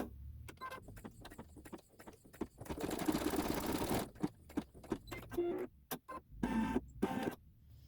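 An embroidery machine stitches satin detail on a quilt block, a close mechanical whirring and clattering run that speeds up into a dense middle stretch, then breaks into shorter bursts and knocks.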